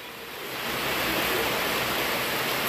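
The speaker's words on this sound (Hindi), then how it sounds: "पानी बहुत ज़ोर का आ गया" Strong, steady rush of water from a household supply, swelling in the first second and then holding loud and constant with no voices.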